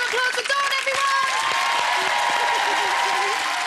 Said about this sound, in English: Big round of applause for Dawn, everyone!